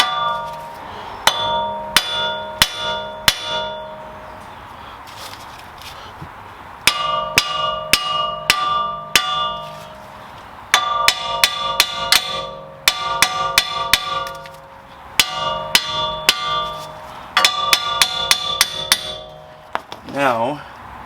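Bursts of rapid hammer blows on metal ring out nearby, clanging in quick clusters separated by short pauses, as a front wheel hub is hammered out of a 2015-2020 Ford Fusion.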